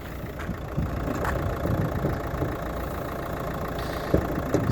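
A 2012 Renault Megane III with a 1.5 diesel K9K engine idles steadily up close, a continuous low diesel rumble with faint ticking and no talk.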